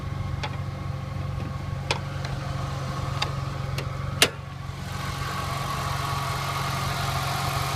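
A 1999 Ford SVT Contour with its original engine idles steadily, a low, even hum with a few light ticks and one sharp click, heard close with no talking.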